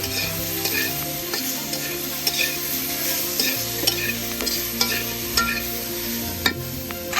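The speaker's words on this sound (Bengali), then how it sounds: "এবার একটু নাড়িয়ে দেবো" Mango chutney being stirred in a pan, a repeated scraping and clinking of a spoon over a soft sizzle, with steady background music throughout and no talk.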